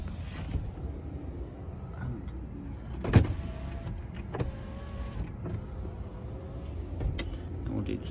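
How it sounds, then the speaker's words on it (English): The power windows of a 2013 Tesla Model S P85 run up and down on a freezing day, a steady electric motor whine under a low cabin rumble, broken by a few thumps as the glass stops. "I'll do all the windows too."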